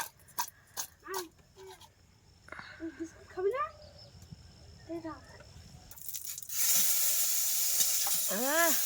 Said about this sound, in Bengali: চিংড়ি মাছটা ভেজে রাখলাম